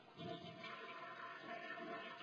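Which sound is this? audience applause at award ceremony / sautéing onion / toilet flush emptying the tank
toilet flush emptying the tank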